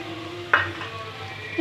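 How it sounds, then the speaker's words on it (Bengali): Boiled mung dal is stirred with spices in a pan, one sharp utensil scrape against a soft low sizzle, brief and close. "ভালোভাবে মিশিয়ে নেব মুগ ডালের সঙ্গে সবগুলো উপকরণ মশলাগুলো"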